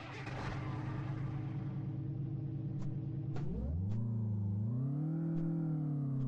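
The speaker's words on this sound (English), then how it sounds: "Hopefully you guys will be able to hear the engine okay." A Kenworth K100 truck engine in Euro Truck Simulator 2 idles with a steady low rumble, then revs up and climbs in pitch, settling into a smooth, rising drone with faint clicks over it.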